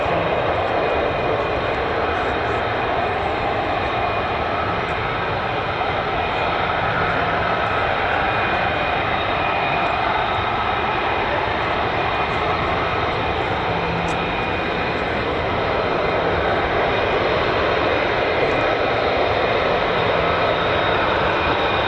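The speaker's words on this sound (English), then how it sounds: "There they are. F-35As." F-35A fighter jets pass over RAF Lakenheath, home of the 48th Fighter Wing, as a loud, steady broadband engine roar that fills the whole clip without fading. No one speaks.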